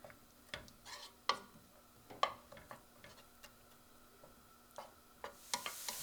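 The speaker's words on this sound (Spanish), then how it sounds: "vamos a sazonar primero la cebolla" Onion being seasoned and sautéed in a pan: a soft, faint sizzle under scattered sharp ticks and taps, like a spoon knocking the pan and stirring, with a brief louder crackle near the end.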